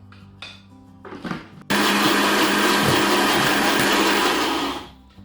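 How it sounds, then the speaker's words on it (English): Kitchen blender blending coriander and mint chutney: a few soft knocks and rumbles, then the motor surges to a loud, steady roaring whir for about three seconds before winding down. "So what we're actually going to do is put everything into the blender, and that's our chutney."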